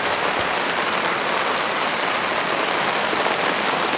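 Heavy rain pours steadily onto a pop-up camper and its canopy, a dense, even hiss of countless drops drumming close by with no voices.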